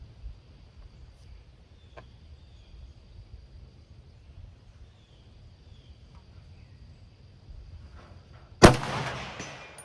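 A single sharp, loud shot from a Romanian PSL 7.62 mm semi-automatic sniper rifle, fired from a bench, cracks near the end after a long stretch of quiet outdoor background.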